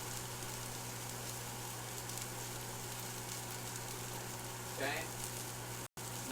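Pulled pork browning in a pan, with a faint, steady sizzle and crackle under a low hum, plus a brief scrape near the end.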